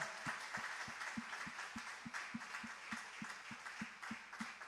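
A congregation at a JMCIM worship service claps together in unison, a steady rhythmic beat of sharp claps repeating about twice a second over a faint room hum, with no talking.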